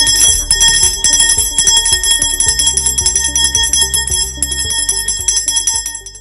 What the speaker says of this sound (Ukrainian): нехай цей дзвоник перший лунає для вас